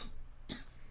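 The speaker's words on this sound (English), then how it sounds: "Is somebody coughing into a microphone?" A single short cough sounds into a microphone, close and fairly quiet, over faint background noise.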